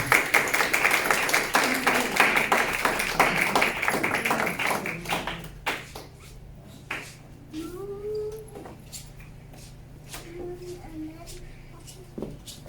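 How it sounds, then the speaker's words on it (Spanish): A church congregation gives loud applause to God, dense clapping for about five seconds that thins into scattered claps and taps while voices talk over it. "Denle un fuerte aplauso a su Dios"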